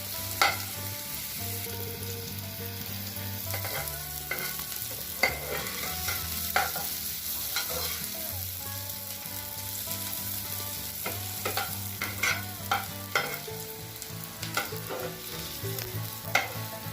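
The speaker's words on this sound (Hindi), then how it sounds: "अब जो हमारा प्याज है वो अच्छे से भुन चुका है।" Chopped onions frying in a pan until golden brown while being stirred: a continuous close sizzle with repeated scraping and clattering stir strokes throughout, under a faint steady tonal hum.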